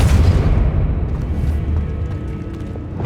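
A Confringo fire spell explodes in the Hogwarts Legacy video game, a single deep boom at the start that rolls and fades away over a few seconds.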